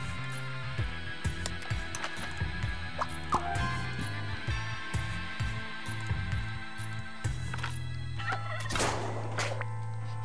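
Turkey gobbling in the Scribblenauts Unlimited video game, repeated rapid cartoonish gobbles in a bouncy rhythm over game music, loud and close, no talk.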